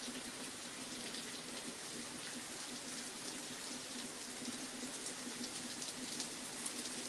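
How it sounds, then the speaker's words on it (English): Heavy rain pours during a thunderstorm, a dense, even hiss of water that holds steady throughout with no voices. "The rain intensified even more."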